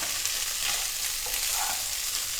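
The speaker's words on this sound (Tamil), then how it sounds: "நம்ம கிளறின சாதத்தை இதில் போட்டு ஒரு 2 நிமிஷம் நல்லா கிளறிட்டு இறக்கிடலாம்" Peanut rice tossed with roasted chana dal in a hot pan makes a steady, close hiss of frying, with soft scraping as it is stirred.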